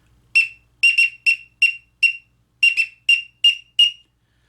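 A person imitates the peep call of a blue-winged teal drake by whistling about ten short, high, clear peeps in uneven pairs and singles. The calls are near and loud, with no talking.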